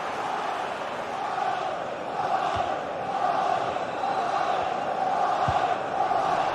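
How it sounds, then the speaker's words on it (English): A stadium crowd in a football video game roars steadily ahead of a corner kick, a broad, sustained wash of cheering that swells slightly midway and holds, with a couple of faint thuds underneath. "Well, just listen to the crowd. They know this is a big chance to equalise."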